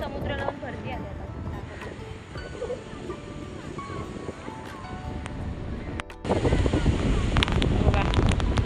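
Sea at high tide on a hidden Konkan beach: waves rolling in under heavy wind buffeting, with a louder surge of surf near the end and a voice talking over it.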